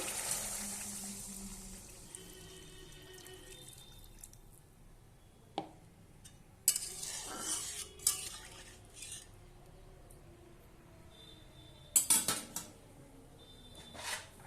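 A spoon stirs and scrapes potato curry in a metal pot after water is poured in. Soft wet stirring is broken by scattered clinks and a few sharp knocks against the pot, fairly quiet and close.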